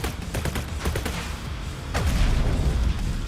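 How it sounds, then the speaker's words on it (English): A building explodes during its last destruction phase in the real-time strategy game Tempest Rising. Loud, rumbling booms layer over crackling, rapid gunfire-like bursts, swelling heavier in the second half with no voices. "It means that this building is gonna explode soon."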